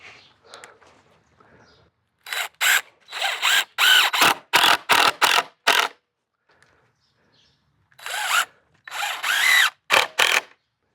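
A power drill drives coated deck screws into floating deck framing in loud, close bursts: a cluster of short runs followed by a pause, then a second cluster. No one speaks.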